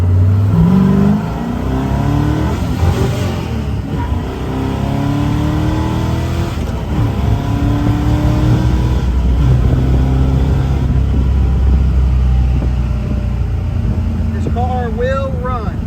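A 1969 Chevrolet Camaro SS 396 V8 convertible revving loudly and close up, engine pitch climbing and dropping through gear shifts with a continuous deep rumble, while a person talks over it.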